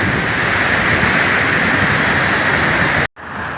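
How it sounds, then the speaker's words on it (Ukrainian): A river runs through a city in Santiago, Chile, giving a steady, loud broadband rush of water that holds even throughout, then briefly cuts out near the end before resuming more quietly. "А от така тут річка через город протікає"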